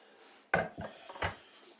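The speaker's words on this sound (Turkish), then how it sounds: "tavanın içerisine bunları şöyle boşaltıyoruz" Ingredients for a garlic menemen tipped into a frying pan: two quick clattering thuds with a soft scrape between, close in a quiet kitchen.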